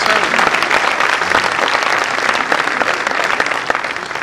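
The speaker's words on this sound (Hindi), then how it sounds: "एक बार थोड़ी सी तालियां बजा दीजिए।" A crowd at a Hindi poetry recital (kavi sammelan) claps loudly and continuously, a close, dense patter of many hands that stays level throughout without any talking over it.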